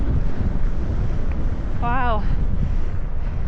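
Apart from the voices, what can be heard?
strong wind blowing while fat biking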